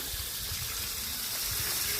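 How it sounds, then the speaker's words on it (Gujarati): Water rushes steadily through a pipe laid into the basin around coconut trees on a farm, a continuous near, loud gushing hiss with no pauses or voices. "નારિયેળીમાં પાણી જાય તો અહીંયા આપણે વાલમાં નળી મૂકેલી છે"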